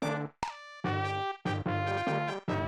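Bright, choppy final boss stage music from Tetris Attack with short punchy synth stabs separated by brief gaps, playing alone without speech.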